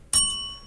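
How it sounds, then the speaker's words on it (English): A single bright ding from a quiz show answer bell rings out loud and close, then decays with a lingering metallic tone. "Americans, get your bell ready, too."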